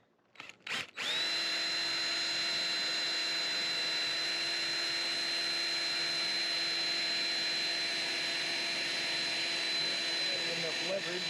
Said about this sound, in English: Use a self-tapping sheet metal screw going in.